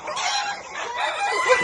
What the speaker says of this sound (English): They're fighting. Chicken fight! Chicken fight!